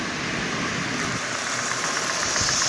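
A Lionel toy train locomotive with smoke unit and electronic E unit runs steadily on track, giving a continuous even mechanical whir and hum throughout with no talking.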